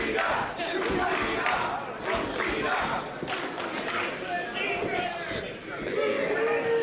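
A capacity crowd roars steadily at a professional wrestling match, a dense, loud wall of cheering and shouting with thuds beneath and a commentator talking over it.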